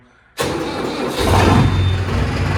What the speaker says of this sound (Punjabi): ਹੁਣ ਚੱਲਦੇ ਆਂ ਕਰ ਲਈਏ ਸਟਾਰਟ ਕਈ ਦਿਨ ਹੋ ਗਏ ਇਹਨੂੰ ਵੀ ਖੜੇ ਨੂੰ